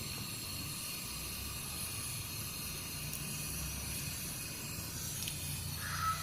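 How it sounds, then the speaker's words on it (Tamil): Mustard seeds fry in a pan of hot oil, giving a faint, even sizzling hiss that holds steady throughout with no talking. "கடுகு நல்லா வெடிச்சு வரட்டும்."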